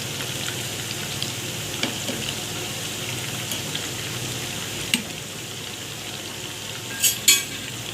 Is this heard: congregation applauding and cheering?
no